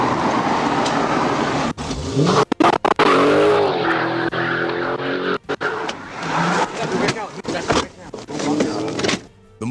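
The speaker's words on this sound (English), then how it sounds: "The engine's growl echoed between overpasses, rattling every window it passed." A muscle car in a police chase roars loudly close by, its engine revving hard against long squealing tire skids, with abrupt cuts and bursts and a narrating voice over parts of it.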